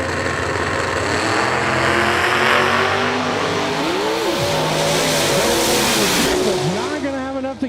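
A drag race car with a Toyota 2JZ engine blasts off at a drag strip, its loud, high-revving exhaust climbing through rapid gear-change dips while a commentator talks over it.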